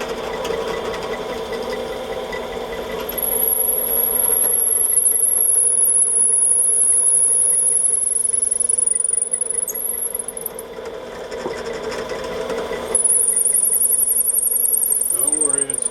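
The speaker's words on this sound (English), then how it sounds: "And then we will drill it halfway" A drill bores into a piece of wooden dowel for a five-gallon bucket handle, a steady motor whine with high squealing bursts as the bit cuts, pausing briefly before starting again, fairly close.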